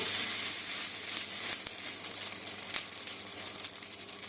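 Pizza fries in white oil on a hot tawa over a low flame, giving a steady, close hiss and sizzle with faint crackles throughout and no talking.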